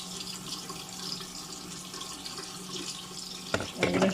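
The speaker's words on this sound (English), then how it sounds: "Other coffee maker, you can get away with pouring in extra water." Water pours into a coffee maker reservoir with a steady, fairly faint splashing trickle that gets louder and more gurgling near the end.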